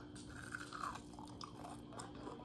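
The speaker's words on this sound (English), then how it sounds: "Y'all hear me crunching?" Crunchy chewing of fried bull testicles, close-up mukbang-style, with a steady run of soft crisp bites and mouth sounds over a low hum and no talking.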